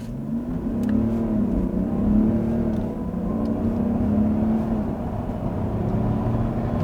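A Mercedes-Benz GLS 400d diesel SUV accelerates hard from standstill to 100 km/h, its engine pitch climbing and dropping back through several gear shifts, heard steadily from inside the cabin.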